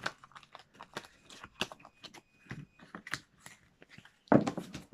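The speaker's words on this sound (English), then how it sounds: "This one's a little more difficult to shuffle up" Tarot cards being shuffled by hand, a string of soft, close papery riffles and taps that build to a louder flurry near the end, with no talking.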